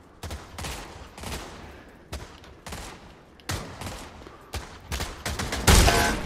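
Gunfire in the VR shooter Pavlov, a string of sharp, loud individual shots at irregular intervals, with a heavier burst near the end and no talking.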